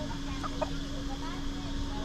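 Chickens, including native Lao chickens, cluck in short, soft bursts amid a steady background hum, with a faint voice also present.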